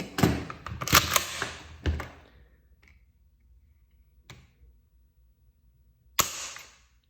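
Timney MP5 trigger pulled against a trigger gauge, giving a few sharp, close mechanical clicks and snaps in a quick cluster, then a lone click and a final crisp snap after quiet pauses.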